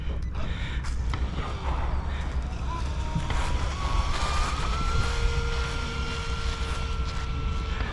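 A motor spinning a three-blade 45 mm propeller at full throttle gives a continuous loud whirring roar, steady throughout, with a rising whine that settles into a sustained tone.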